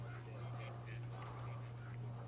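In the video game Ark, a bird lets out goose-like honking calls over a loud, constant low hum, a few brief honks at moderate level.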